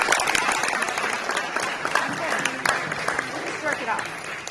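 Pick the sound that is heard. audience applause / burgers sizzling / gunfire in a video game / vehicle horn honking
audience applause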